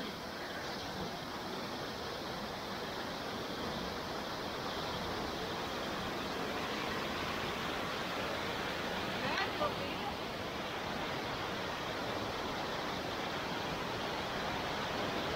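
Waterfall on a farm pouring steadily into a pool, a dense, continuous rushing roar that stays loud and even throughout with no pauses.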